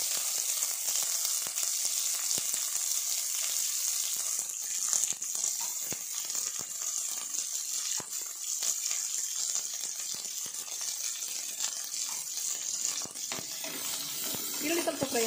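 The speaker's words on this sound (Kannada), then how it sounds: "ಈರುಳ್ಳಿ ಸ್ವಲ್ಪ ಫ್ರೈ ಆಗಬೇಕು." Sliced onions frying in hot oil with green chillies, giving a steady loud sizzle with occasional stirring clicks throughout, no talking.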